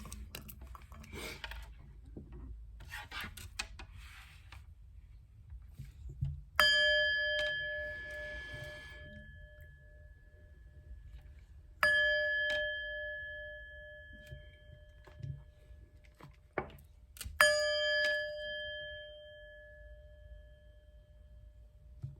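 Three bright metal chime strikes ring out one at a time, each decaying slowly, over soft rustling and handling noise during a tarot reading with candle wax nearby.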